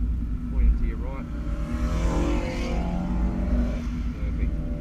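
Cars pass on the Wakefield Park race track during a track school session, with a continuous engine drone and revs swelling nearby as they go by, while a person talks over the noise.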